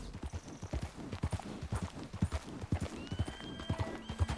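Horse hooves from Red Dead Redemption 2 clip-clop in a quick, steady rhythm, loud and close, with a bright tonal call rising near the end.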